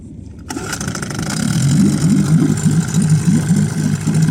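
After a moment of quiet, an outboard engine on a small inflatable sea fishing boat catches and settles into a loud, steady idle with a regular rhythmic chug, no talking.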